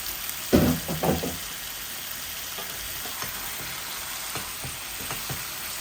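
Mrigal fish pieces go into a pan of hot oil, a burst of louder sizzling and clatter at first, then a quieter steady frying crackle continues.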